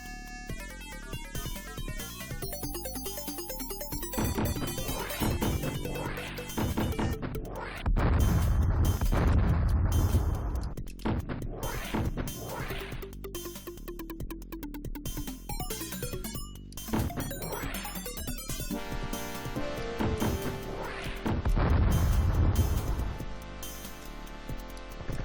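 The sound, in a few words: missiles firing and exploding in video game Traffic Department 2192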